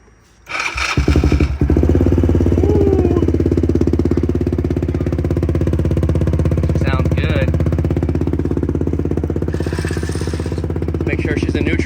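A Polaris Sportsman 110 ATV fitted with an HMF exhaust cranks briefly, catches and settles into a loud, steady, close idle that runs throughout, with only slight wavering in its rumble.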